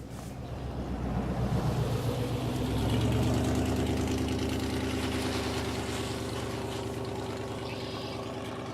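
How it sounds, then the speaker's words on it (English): A noisy car engine idles nearby, a steady rough mid-pitched rumble that swells a little and holds, with no voices over it. "Sorry for that noisy car there, guys."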